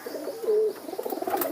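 A racing pigeon coos up close, a low throaty warble that swells once, then breaks into several short rolling coos, alone and fairly loud.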